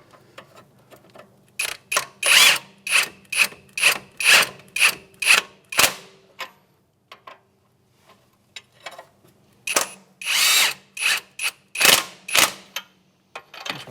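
A ratchet wrench snugging the 24 millimeter strut bolts on a 2007-2013 Acura MDX front suspension, producing bursts of rapid, close clicking strokes with a pause midway before a second run of ratcheting.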